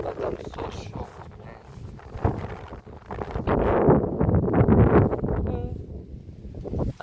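Strong wind gusts blustering outdoors over open rural land, a roaring broadband rush that swells louder toward the middle and end, with someone speaking briefly beneath it.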